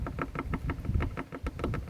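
A thumbnail drags back and forth through a deep gouge in car paint, making a rapid, even series of knocking clicks, about six per second, close and steady.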